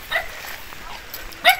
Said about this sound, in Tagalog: Ayun yung mga aso ni Ate Luningning